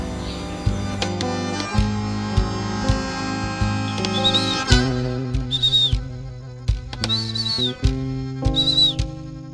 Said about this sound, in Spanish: Hacemos un chiflete nosotros y lo llamamos los patos.